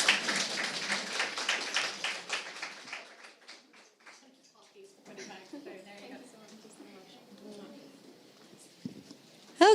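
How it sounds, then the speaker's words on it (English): Applause from a live audience at an event, a scattered, fairly light burst of clapping that thins out after a few seconds as a voice begins talking over the room. "So big round of applause for Autumn."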